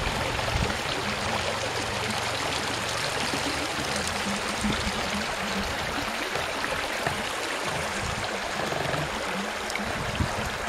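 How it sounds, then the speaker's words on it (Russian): A babbling stream, the Bavlinka river in Bavly, trickles and gurgles steadily and close by, a continuous bright rush of water with no voices over it. "Тихо журчание ручья."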